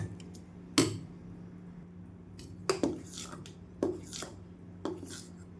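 Peanut chutney with added salt being mixed in a bowl: five sharp spoon knocks against the bowl at uneven intervals over a quiet background, no talking.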